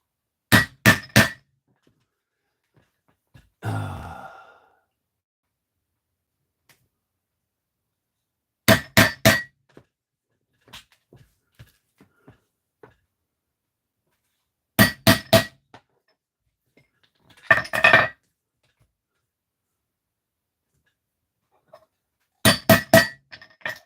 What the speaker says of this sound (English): I'll punch these holes out a little wider so the rivets will work better.